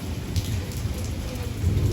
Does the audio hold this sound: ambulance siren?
no